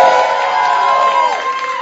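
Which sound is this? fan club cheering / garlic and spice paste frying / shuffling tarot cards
fan club cheering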